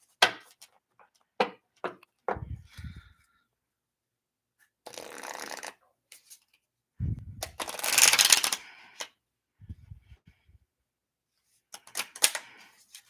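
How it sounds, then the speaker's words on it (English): Tarot cards are shuffled by hand in bursts of riffling and snapping, with crisp short clusters and longer rustling passages separated by pauses, close and fairly quiet, with no talking. "I'm gonna do one no more shuffle"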